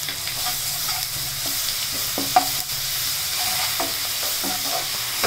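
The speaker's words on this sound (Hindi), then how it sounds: "तेल में ही आपको डालना है हल्दी" Turmeric and garlic frying in oil for Bihari kadhi, a continuous close sizzle with repeated scraping and tapping of a stirring spoon against the pan.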